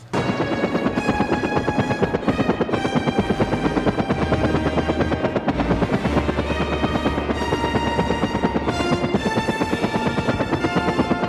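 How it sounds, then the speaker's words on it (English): Loud, steady rotor chop from two army helicopters circling overhead, with a rhythmic pulsing thump, layered under a dense wash of noise that continues without a break. "2 Army helicopters are circling the area"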